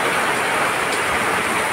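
Steady heavy rainfall makes an unbroken, close wash of hissing drops, loud and uniform from start to finish with no talking.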